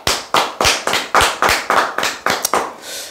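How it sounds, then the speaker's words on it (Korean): Audience clapping in unison at the close of a lecture, about ten sharp, evenly spaced claps in a steady rhythm, loud and near with no talk over them. "박수 한번 칩시다"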